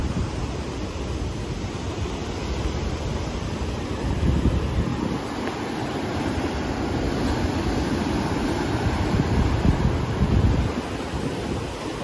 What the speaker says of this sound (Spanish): Yo me imagino que el mar siempre se encuentra de esta manera